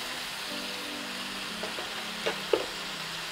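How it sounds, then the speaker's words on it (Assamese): Small fish frying in a pan with ginger-garlic paste, giving a faint steady sizzle with a few brief stirring clicks near the end. "আৰু এইখিনি কেঁচা কেঁচা ভাৱটো যোৱালৈকে ধুনীয়াকৈ ফ্ৰাই কৰি ল'ম"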